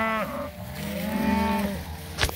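Cattle in a cocklebur field moo in long, drawn-out calls, one low bellow after another over a faint outdoor background, fairly close, with no talking.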